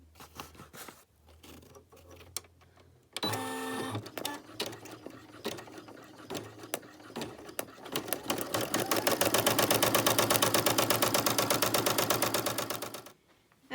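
Brother PE 770 embroidery machine running a placement stitch of vinyl onto stabilizer: a few clicks and a brief burst, then a steady, rapid mechanical patter that builds and holds loud before stopping abruptly.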